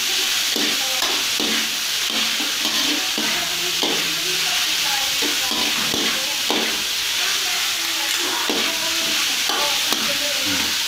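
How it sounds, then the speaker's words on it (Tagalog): Fresh miki noodles stirred in a frying pan, with a steady sizzle under repeated scraping and clacking strokes of the utensil against the pan, close and fairly loud. "Haloin natin para hindi siya dikit sa kawali"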